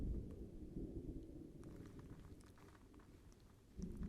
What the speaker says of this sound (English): But the thunder will keep on rumbling.